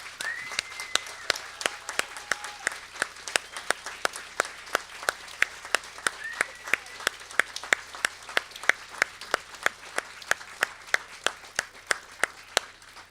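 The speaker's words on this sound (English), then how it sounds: "So a big round of applause" Scattered, sparse hand claps from a town meeting audience, sounding like a small crowd at a community hall event, with isolated sharp claps spread steadily across the span and whistled tones early on.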